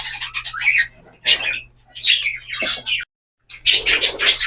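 Several birds in a breeding cage squawk and chirp in short loud bursts close by, with brief gaps between calls and a faint low hum underneath.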